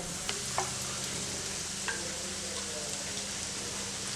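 Potato cutlets shallow-fry in a little oil in a pan, giving a steady close sizzle broken by a few soft clicks and pops.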